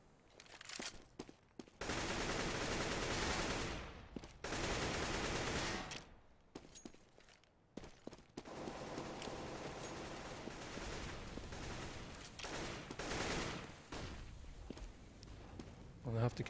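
Rapid bursts of gunfire and sustained automatic fire in a competitive shooter video game match, from a South American qualifier between Ecuador and Argentina, ring out loudly and almost continuously under excited commentary.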